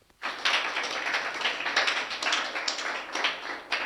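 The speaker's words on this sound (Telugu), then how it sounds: "చప్పట్లు కొట్టండి ఒకసారి." Dense, continuous applause from a church congregation fills the whole stretch after a brief quiet start, loud and steady with scattered sharper claps, no voices on top.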